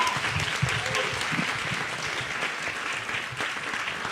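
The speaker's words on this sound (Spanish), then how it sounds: "para quienes pido un fuerte, fuerte aplauso" Audience applause at a panel on political allies in the Caribbean, a steady, full wash of clapping from a crowded room lasting the whole stretch, with some voices underneath.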